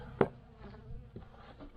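Honeybees buzz around a hive at dusk while an overwintered colony is being closed up, one sharp close burst rising above a softer, uneven hum from several insects nearby.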